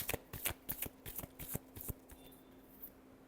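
A deck of tarot cards is shuffled in a quiet room, giving a quick series of sharp riffling snaps and flicks that fades into faint handling in the final second.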